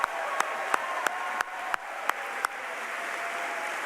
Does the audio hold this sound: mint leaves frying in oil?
no